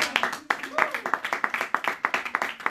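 A church congregation claps in a steady rhythmic beat during a French-language worship service, with voices calling out under the sharp, even claps.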